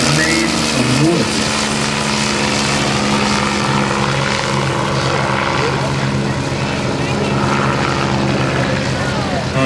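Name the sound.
Bell 47 helicopter, Franklin 210 horsepower engine, wooden blades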